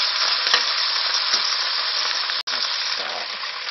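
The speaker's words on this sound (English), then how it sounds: "This is the sound of our oil searing our chicken." Loud, steady sizzling of chicken searing in very hot oil for a stir fry, a dense crackling hiss that runs throughout with one brief dropout near the end.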